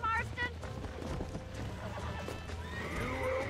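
A horse in the Red Dead Redemption video game whinnies in short bursts while hooves clip-clop in a steady rhythm nearby, with someone talking over the sounds.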